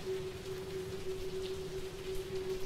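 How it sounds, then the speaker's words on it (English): Rain falls in the video game The Lady, a soft, steady patter with a faint constant tone running beneath it, quiet and alone. "I'm walking in the rain"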